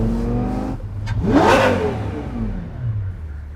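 A Lamborghini Gallardo Superleggera's engine rises in a loud, close rev as the car pulls away during clutch calibration, then the sound eases back to a steady drone.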